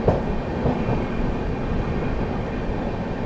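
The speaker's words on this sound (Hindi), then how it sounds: "सामने से फिर कोई ट्रेन अपने से क्रॉस होने आ रही है दोस्तों।" Another train passing the 12226 Kaifiyaat SF Express on the Delhi to Azamgarh route in fog: a steady, close rumble and rushing roar of rail cars, continuous throughout with no voices.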